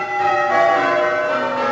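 Church bells ring out from a city bell tower in a sustained, shimmering peal, loud and resonant with overlapping tones that linger and decay.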